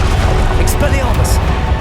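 Confringo and Incendio spells exploding in Hogwarts Legacy, heard as a steady, loud rumble of fiery blasts with a couple of sharp hissing bursts mixed in and a voice speaking over it.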